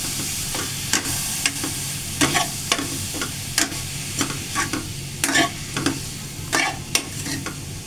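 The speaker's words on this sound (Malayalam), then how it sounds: "അതുകൊണ്ടാണ് ഇത് നമുക്ക് ഇതിനകത്തോട്ട് ഇതിട്ടൊന്ന് ഇളക്കാം." Ingredients are stirred in a cooking pot with a quiet simmer underneath. Irregular scrapes and knocks of the spoon against the pot come close together and sound near, with no talking.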